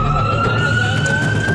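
UP Police ambulance leaving Ropar jail with its siren wailing loudly and steadily, a sustained electronic tone over low road and engine rumble nearby.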